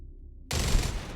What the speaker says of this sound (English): this is the default assault cannons